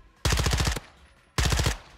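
Two loud, close bursts of rapid automatic SMG fire in a video game, each lasting about half a second with a short quiet gap between them.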